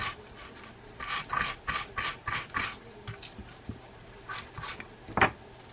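A brass brush scrubs old grease off the gear of a vintage Ocean City 81 baitcasting reel, giving a series of short, close rasping strokes in bursts, then a sharper scrape near the end.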